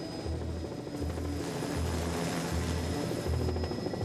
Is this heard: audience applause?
no